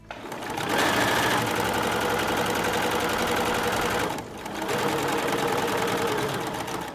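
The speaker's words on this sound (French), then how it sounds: "on va exécuter une couture à 1 cm tout autour en laissant bien le bas des 2 pièces ouverts" A sewing machine runs steadily, stitching a 1 cm seam all around two fabric bow tie pieces. The whirring is close and continuous, with one brief slowdown near the middle before it picks up again.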